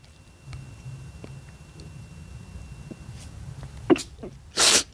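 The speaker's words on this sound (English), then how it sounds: "I just sneezed." A single loud, sharp sneeze near the end, outdoors in a forest with light wind, after quiet rustling and a few small knocks.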